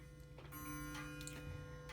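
Howard Miller grandfather clock with a Kieninger triple-chime movement, ticking steadily at close range with faint tonal hum and no talk.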